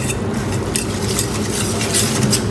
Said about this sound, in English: So now we are going to mix